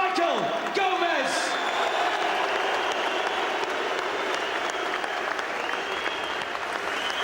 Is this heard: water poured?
no